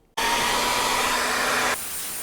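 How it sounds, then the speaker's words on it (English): Blow dryer drying treated origami paper, switching on abruptly to a loud steady whooshing roar, then dropping to a lower setting near the end. "I used the blow dryer to show exactly what I mean"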